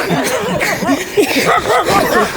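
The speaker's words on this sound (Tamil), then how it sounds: "ஏய் நாய் உரைக்குதுடா" A dog barks several times in quick succession, fairly close, with human chuckling and some vocal sounds mixed in.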